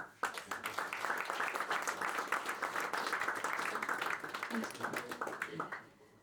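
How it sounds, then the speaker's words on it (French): An audience at a tourism medal award ceremony gives a round of applause for a senator, with crisp, dense clapping that rises quickly, stays strong, then thins out and fades at the end. "je vous demande de l'applaudir très très fort"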